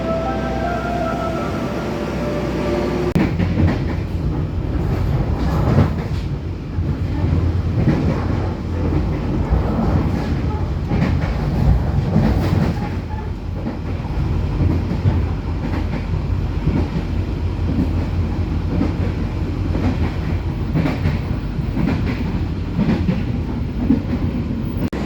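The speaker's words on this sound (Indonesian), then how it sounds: "Nah, ada kereta berangkat pakai SS ya." A train pulls away from Solo Balapan station in Indonesia, its rumbling wheels and rhythmic clattering over rail joints building steadily and close by, with no talk throughout.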